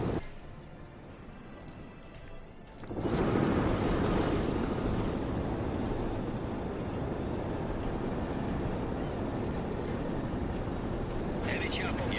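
An Apache gunship helicopter in the World in Conflict video game roars in with a loud, steady engine and rotor drone after a quieter opening of game sounds.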